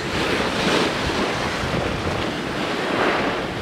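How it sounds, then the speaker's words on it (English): Ocean surf washes onto a cold beach in steady, loud broadband waves, rising and falling in two swells, with wind buffeting the microphone throughout and no one speaking. "Wow, an ocean!"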